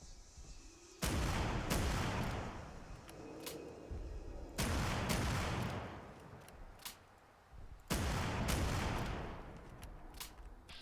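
Heavy shotgun blasts from a double-barrel gun in Fallout 4 land in three bursts about three seconds apart. Each opens with a loud broadband crack that trails into rumbling decay over a low game background, with no talk.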